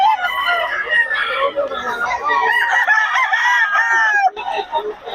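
Golden Boy sweater gamefowl roosters crow loudly and repeatedly close by, with long wavering calls overlapping and clucking in between, at a gamefowl yard in Bocaue.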